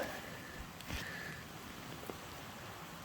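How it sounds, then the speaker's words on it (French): Rain falls steadily through a forest during a spring mushroom-gathering outing, a soft, diffuse patter close around the listener with a few sharper drops and light rustles, no one speaking. "Ça pleut de plus en plus."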